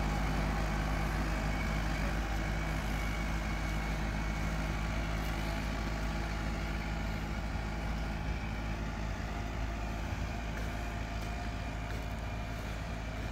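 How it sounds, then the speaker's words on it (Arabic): Steady engine drone of a tractor working a farm field while manure is spread, a continuous low rumble with a strong, constant hum that holds at an even level throughout with no voices. "جرار يمشي وراه"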